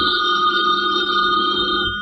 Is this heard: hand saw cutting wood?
no